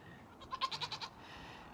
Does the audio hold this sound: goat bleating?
yes